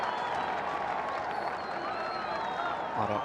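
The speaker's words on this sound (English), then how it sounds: "And the crowd are on their feet." A cricket stadium crowd at a Shpageeza Cricket match cheers and applauds in a continuous dense roar with scattered clapping, while a commentator's voice runs faintly beneath.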